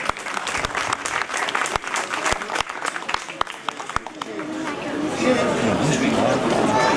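Audience applause at an award ceremony for the Bugatti festival prizes in Molsheim, with dense clapping mixed with crowd chatter, swelling into a fuller, steadier wash of applause toward the end.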